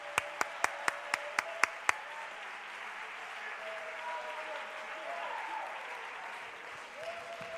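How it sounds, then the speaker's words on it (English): Church congregation applause: a few sharp, evenly spaced hand claps at the start, then a softer, diffuse crowd clapping and murmur continuing in a reverberant hall. "Somebody ought to clap your hands and thank God"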